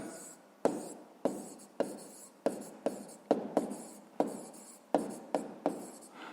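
A pen writes by hand on paper during a sixth-grade math exercise, with rhythmic scratchy strokes about every half second, close and clear, and no talking.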